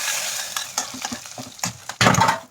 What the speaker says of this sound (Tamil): இப்போ இந்த பருப்பில் சேர்த்து தாளிக்கணும்.